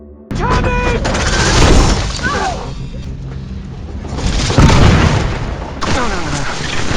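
Loud sci-fi alien weapon blasts and booming impacts amid chaotic film battle noise, with shouting voices mixed in and sharp bursts recurring.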